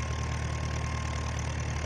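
A tractor engine idling steadily in Farming Simulator 19, a constant low rumble with an even throb, heard alone and close, with no voices over it.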